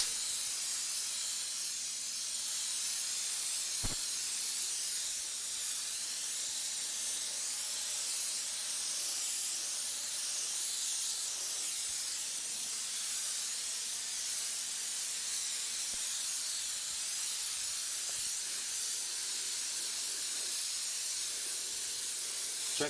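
Airbrush spraying paint for realistic flames on a Hummer, a steady, even airy hiss running continuously at close range with a couple of faint clicks.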